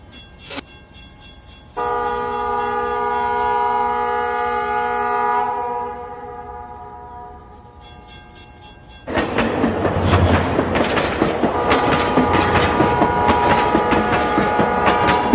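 A train passes as a sound effect in an animated horror story: a horn sounds for several seconds, then a quiet gap, then loud rolling wheels and rattling carriages continue to the end.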